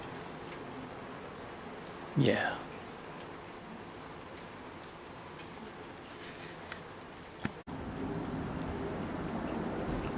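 Monsoon rain falls on water, a roof and trees as a steady, dense hiss. A brief rising whistle-like sound cuts in early, and the rain grows louder and fuller near the end.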